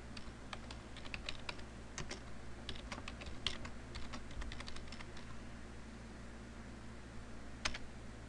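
Keys clack on a computer keyboard as router configuration commands are typed at a command line, irregular close taps in bursts over a low steady hum.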